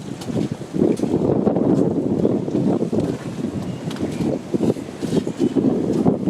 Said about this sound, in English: Pretty windy here, so I don't know how well you hear the audio.